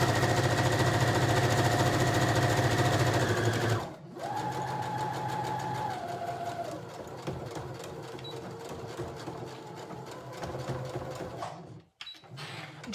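A sewing machine stitches a French seam on a cotton elasticated skirt, running steadily with a dense rhythmic whir for about four seconds, then continuing at a slightly changed pitch before a brief stop near the end.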